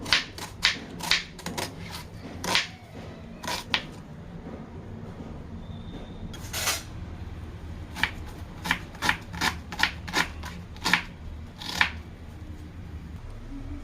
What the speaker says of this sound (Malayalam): നമുക്ക് ഇതിനായിട്ടുള്ള ഒരു സബോള ഒന്ന് അരിഞ്ഞെടുക്കാം.